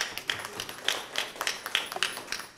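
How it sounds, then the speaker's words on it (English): Audience applause at a pharmaceutical packaging conference, a scattered, moderately thin round of clapping from a small crowd, steady for a couple of seconds. "Can we have a round of applause, everybody?"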